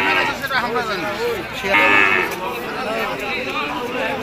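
Cattle at a busy livestock market in Nilphamari, with a steady hubbub of close voices and occasional drawn-out calls from the animals rising above the chatter.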